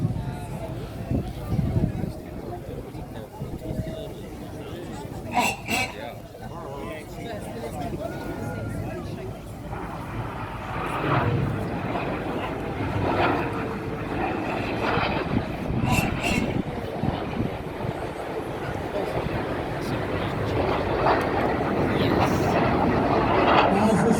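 A low, broad jet roar from Red Arrows aircraft flying the Synchro Double Rolls over the shoreline at an Armed Forces Day display in Ryde swells steadily louder, heard from a distance under a public-address commentator's talk.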